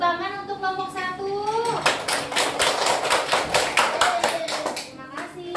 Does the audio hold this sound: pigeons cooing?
no